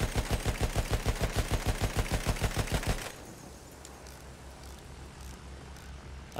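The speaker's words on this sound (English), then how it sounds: "The tank on E is shooting us with the, you know, the shotgun shells." A tank in Battlefield 1 fires a rapid, evenly spaced volley of loud shots for about three seconds before dropping to quieter battlefield rumble and faint distant noises.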